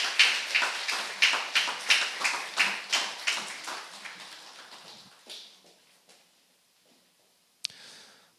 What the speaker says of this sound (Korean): 우리 두 분에게 큰 박수 한번 보내주세요